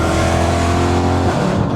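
A BMW E92 M3 fitted with a loud custom exhaust roars at high revs, a steady, close, raspy engine note that drops off sharply near the end.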